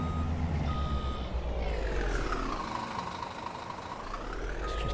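A truck reverses in Farming Simulator 22 near a forage dealer, its steady reversing beeps sounding over a constant low engine drone, with no talking.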